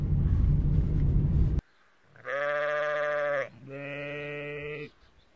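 Sheep on a road bleat loudly and close by in two long, sustained calls following a burst of rumbling noise, with no talk.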